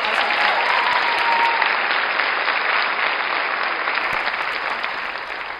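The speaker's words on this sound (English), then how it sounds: "So round of applause for her." An audience at a high school Fiddler on the Roof production applauds a theatre crew member, with loud, sustained clapping throughout that fades slightly toward the end.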